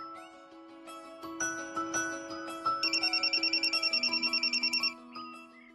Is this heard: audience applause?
no